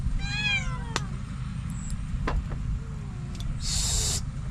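Cats meowing in a home kitchen during cooking: a near, loud drawn-out meow followed by a couple of shorter cries and a brief hiss, over a low steady background.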